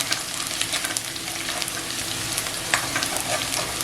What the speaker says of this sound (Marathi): दोन मिनिटं आहे ना अशी लसूण फ्राय करून घ्यायची